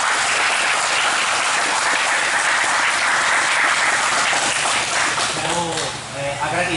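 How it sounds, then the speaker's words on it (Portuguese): Audience applause at a jiu-jitsu seminar in Pernambuco, a loud, dense, even clatter of clapping hands filling most of the clip, tapering off near the end as a voice begins speaking. "Salve de palmas."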